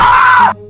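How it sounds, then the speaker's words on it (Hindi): A sudden loud scream in a horror cartoon story, one sustained strained cry lasting under a second that cuts off abruptly, leaving a faint low tail. "फिर से किसी के चीखने की आवाज़ आती है।"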